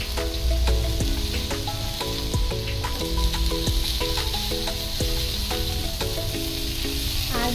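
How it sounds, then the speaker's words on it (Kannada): Fish fries in a covered pan with a constant, close sizzle and crackle, sitting under fairly loud background music. "ಒಳಗಡೆನೂ ಚೆನ್ನಾಗಿ ಫ್ರೈ ಆಗತ್ತೆ ಇದು."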